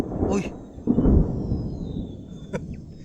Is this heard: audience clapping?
no